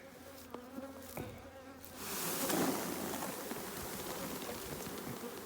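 A swarm of honey bees is shaken into a hive, and the buzzing swells from a few near insects into a loud, dense, continuous drone after a couple of seconds.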